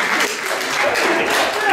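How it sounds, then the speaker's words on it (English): An audience at the MiF 2019 improv comedy show by the TeddyBeards bursts into loud, dense applause, a continuous roar of hands with voices mixed in. "So get applause for nothing."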